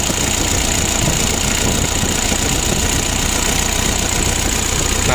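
A Mitsubishi L300 diesel engine that runs rough and is hard to start, cranked and caught on the starter and then held at a steady, loud clattering idle close by, with no talk over it.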